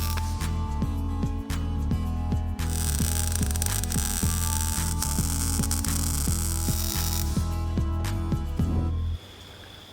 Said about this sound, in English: With the welder set up, I'll tack the parts in at first, then fully weld up the new mufflers